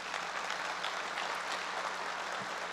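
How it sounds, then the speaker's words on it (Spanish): Applause from an audience at a constitutional jurisprudence panel, a steady dense wash of clapping filling the room at even loudness throughout. "Les pido, por favor, un fuerte aplauso nuevamente para ellos."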